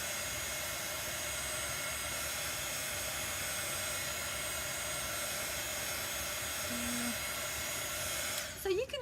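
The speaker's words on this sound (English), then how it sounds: "So you can use a hair dryer to dry" A hair dryer blows in a steady, loud whir with a high whine, running continuously until it cuts off near the end.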